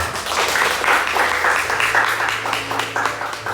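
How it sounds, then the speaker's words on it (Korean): Church congregation clapping to welcome a child after infant baptism at a Sunday service, a close, lively burst of hand claps in uneven pulses that carries on for several seconds. "성도 여러분께서는 박수로 환영해 주시기 바랍니다"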